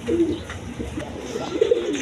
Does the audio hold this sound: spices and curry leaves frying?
no